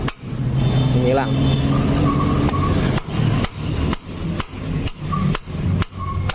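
A hammer strikes a Honda Vario 150 CVT part in a series of sharp, ringing metallic knocks, spaced irregularly then quicker, close up with a motor-like drone and talking in the background.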